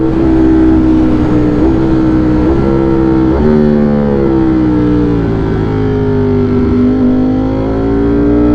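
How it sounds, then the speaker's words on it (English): A loud, close truck engine drones steadily on the road, its pitch dipping and rising slightly as it runs on, with no talking. "There's a truck coming up."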